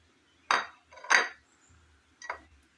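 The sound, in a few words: chopped jackfruit seeds put into a pressure cooker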